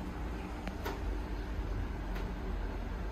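Dover hydraulic elevator at a shopping center running smoothly, a steady low rumble and hum throughout with a couple of faint, brief clicks partway through, no voices.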